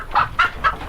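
Three short bursts of hen clucking, evenly spaced and fairly close, over a low background hum.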